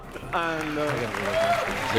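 Crowd at the E3 2018 EA Play press conference cheering and applauding, a steady wash of clapping and voices rising sharply after a brief lull and holding loud throughout, with a voice ringing out briefly above the noise.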